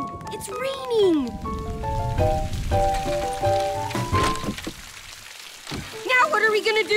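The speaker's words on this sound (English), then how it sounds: "Oh no! It's raining!" Cartoon rain patters steadily as a loud hiss beneath animated voices, tonal music and sound effects, in a garden scene with a freshly mowed lawn and a painted shed.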